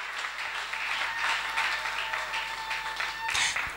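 Audience at a Miss Francophone pageant applauding a candidate, a sustained wash of clapping that swells near the end, with faint music or voices underneath.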